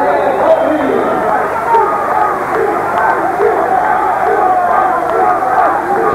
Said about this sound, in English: The crowd shouting for TURAN BAGCI